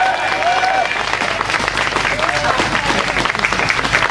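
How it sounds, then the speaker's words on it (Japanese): A festival audience claps in a steady spatter of applause lasting a few seconds, with crowd murmur and some voices underneath. "じゃあ実行委員長の挨拶を、ヤン大きな拍手でお迎えください。"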